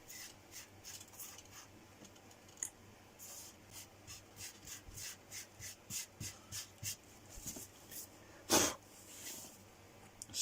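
A metal magnet motor U bracket clamped and worked to remove excess metal, giving repeated rasping, rubbing strokes in a steady rhythm, fairly close, with one louder scrape near the end.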